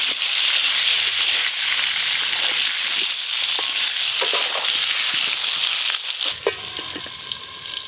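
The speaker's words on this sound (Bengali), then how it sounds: "সর্ষের তেল, চিকেন কষার জন্য আলুগুলো খুব ভালো করে ভেজে নেব।" Potatoes frying in mustard oil, a loud, steady crackling sizzle with occasional sharper pops and stirring clatter toward the end.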